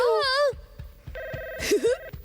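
A cartoon telephone rings with a warbling, trilling tone in a short burst, followed by further electronic ringing tones, with other voice-like sounds mixed in.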